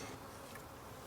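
A dense, continuous buzzing of many honey bees inside a hive, close and steady, with no voices.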